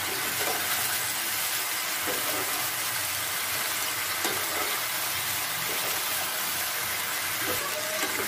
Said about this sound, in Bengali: নুন দিয়ে সবজিগুলো ভালো করে আবার ভেজে নেব